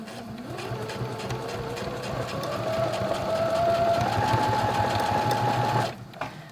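A Brother CS10 sewing machine stitches a scrap of faux leather in one continuous run, its motor whirring and climbing slightly in pitch before stopping abruptly near the end.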